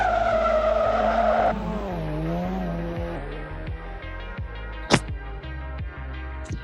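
A 2019 Volkswagen Arteon, front-wheel drive, launching hard with loud sustained tire squeal and skidding over the engine note, then the engine revs climb through rising tones as the car pulls away, with a sharp chirp near the end.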